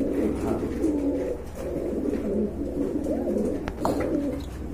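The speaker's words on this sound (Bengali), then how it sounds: "এক জোড়া ব্লু শার্টিন কবুতর" Soft, low coos from a pair of blue satin pigeons repeat steadily over a constant background hum, close by, with a brief sharp click near the end.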